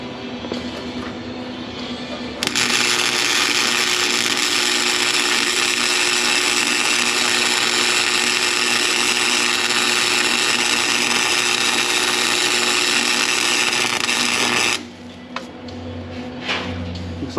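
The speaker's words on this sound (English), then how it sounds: "Need to get in here to finish off that weld." MIG welding on a Corsa exhaust under a 5.3 Chevy Tahoe: a steady, loud crackling buzz runs continuously for about twelve seconds, then cuts off to quieter background.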